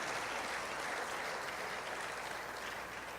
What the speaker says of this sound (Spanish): Vamos a dar un aplauso al Señor esta mañana por ustedes.